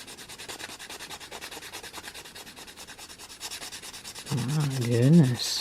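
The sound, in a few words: sanding with a sanding sponge on a craft project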